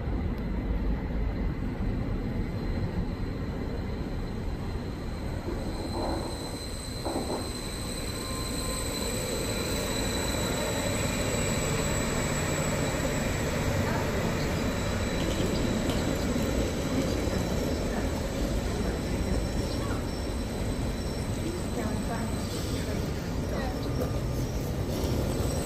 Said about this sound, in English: Train now approaching platform 3 is your 1840 service to Norwich